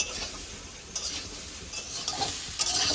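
Pointed gourd, potato and boiled soybean pieces stir-fry in a pan, a steady close sizzle broken by scraping strokes of a spatula and occasional clinks against the metal.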